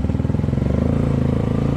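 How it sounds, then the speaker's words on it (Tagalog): A motorcycle engine idles and runs steadily close by, a rapid even pulsing throb that holds at one level throughout, with no voices over it. "idaan natin doon sa FMT yung motor ni Kuya Elpidio"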